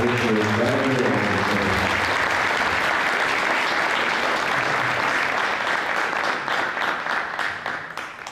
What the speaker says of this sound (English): Give me a round of applause for this year's Forever Blue Award.